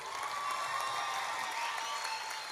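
Concert audience applauding an orchestra conductor and arranger at a live show, a dense steady wash of clapping held at even loudness throughout, with a faint sustained tone running underneath.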